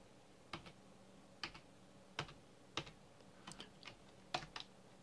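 Someone types on a computer keyboard at a desk in short quiet bursts of clicking keystrokes with small pauses between them, close and soft with no talk.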